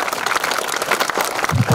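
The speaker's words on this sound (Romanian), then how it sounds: "Să-i aplaudăm că merită" Applause from a ceremony audience at an awards festivity in Orbeni, a steady patter of many hands clapping at moderate volume, with a brief low murmur near the end.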